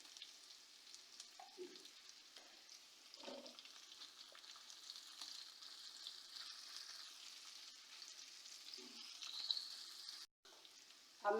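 Chicken samosa filling sizzles in oil in a pan, with a soft, steady crackle. Stirring and clinks come through now and then, close and fairly quiet.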